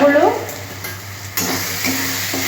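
Masala being fried and stirred in a pan for a katla fish curry with pumpkin and potato: a steady close sizzle with scraping stir strokes, louder after the lid comes off.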